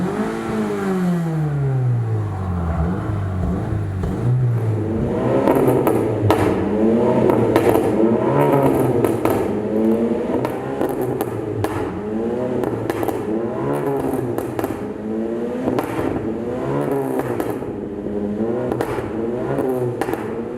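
A Mazda 6 four-cylinder engine with an MV-Tuning filter revs repeatedly through its exhaust, loud rising and falling sweeps with crackle between blips, close and alone with no talk.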